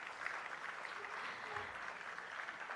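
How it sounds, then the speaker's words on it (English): Faint, steady audience applause following a Bharatanatyam arangetram dance performance, a soft continuous wash of clapping from a distance. "she surely deserves a huge round of applause"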